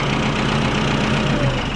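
A Ford 7600 tractor engine idles steadily just before shutdown, a low, even diesel rumble with a faint knocking pulse, close and continuous with no talk over it.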